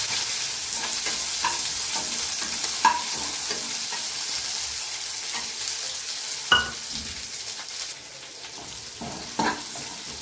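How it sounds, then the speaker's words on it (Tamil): Green and dried chillies frying with onions in a pan, a steady close sizzle running throughout with occasional clinks and stirring scrapes, no talking. "நல்லா பொன்னிறமாக வறுபட்டதுக்கப்புறம் 2 வெங்காயம்"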